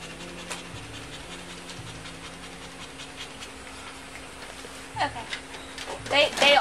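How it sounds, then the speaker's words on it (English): Severely dehydrated puppies panting heavily, a quick rhythmic breathy pant at moderate distance over a hissy background, growing louder and busier toward the end. "The puppies were panting heavily and severely dehydrated"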